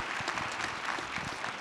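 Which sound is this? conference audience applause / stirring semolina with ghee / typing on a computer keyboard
conference audience applause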